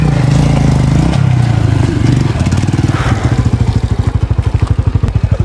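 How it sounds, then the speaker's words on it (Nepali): Motorcycle on a rough, muddy mountain road toward Dhorpatan, its engine close and loud with a steady chug that turns into rapid, evenly pulsing beats and rattling clatter as the bike jolts over the ruts. "यहाँ चाहिँ बाइक नचिन थाल्छ"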